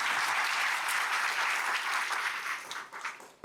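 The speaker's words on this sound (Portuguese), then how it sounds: "Uma salva de palmas para eles." An audience at a motivational talk bursts into sustained, close applause that slowly tapers off near the end before a brief final sound.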